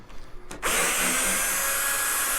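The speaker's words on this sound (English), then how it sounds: "I set the clutch pretty low on the drill" A cordless drill with its clutch set low backs screws out of the rear plate of a Mesa/Boogie California Tweed 6V6 amplifier on a kitchen table, a close, loud whir that kicks in after a short pause and runs steadily.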